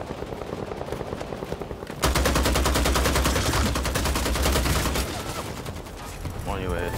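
Automatic machine gun fire in the PS5 shooter Bloodhunt during a team deathmatch, a loud rapid burst lasting about three seconds amid game noise, with a voice speaking over the action.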